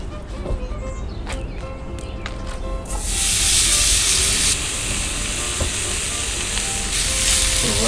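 Small cut pieces of bacon hit a hot pan in a home kitchen and burst into a loud, steady sizzle that keeps crackling and hissing, after a few light clinks and handling sounds.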